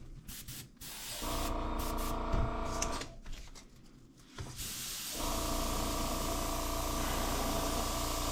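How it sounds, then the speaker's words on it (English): A steady airbrush hiss sprays paint onto a fishing lure in bursts, pausing briefly between passes, with a faint compressor hum underneath, close and continuous. "And we're just gonna spray the sides,"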